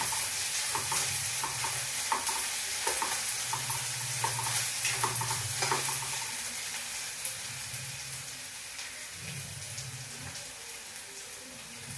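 Food sizzles in a hot pan as it is stirred until brown, with repeated scraping strokes and clinks over a steady frying hiss that fades gradually toward the end, and no talk.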